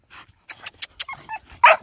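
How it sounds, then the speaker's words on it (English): Dog barking at goats on a local farm, a run of sharp, close barks and yips in quick succession, ending in a louder, harsher bark. "Stop barking at them."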